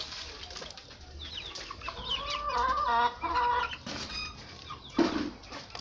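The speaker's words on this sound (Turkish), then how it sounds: "İşte burada gene köy horozum" Several chickens clucking and murmuring close by, with overlapping calls and one louder squawk near the end.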